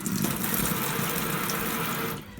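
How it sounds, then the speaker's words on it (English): Steady tap water runs continuously inside a second-hand caravan, a close, even rushing hiss that fills the space and cuts off abruptly near the end. "We have water running."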